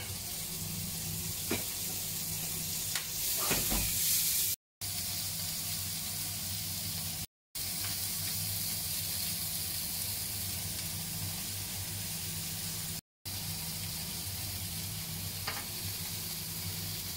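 Onions fry in a hot pan for a shrimp and vegetable stir fry, giving a steady, fairly loud hiss and sizzle with a few sharp clinks, broken by brief silent gaps, and no talking.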